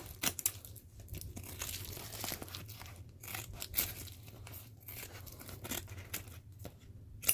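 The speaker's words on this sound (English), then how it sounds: "I'm going to go ahead and follow it this way and cut it through because this is my bottom shape." Quiet, close cutting and crinkling of a paper pattern for a mascot head, with irregular snips and rustles and occasional sharper crackles, no voices.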